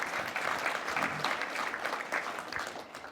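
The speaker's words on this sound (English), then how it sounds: "So another round of applause for them." Audience at the Fraser Valley Cultural Diversity Awards gives a round of applause, a dense sustained clapping from a crowd, fairly loud and steady.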